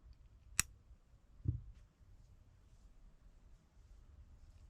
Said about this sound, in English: to cut the yarn